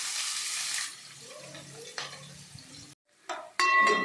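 Chopped onions and green chillies frying in oil for aloo paratha filling, a soft sizzle with stirring and a few clinks of utensils against the pan, broken by a brief pause.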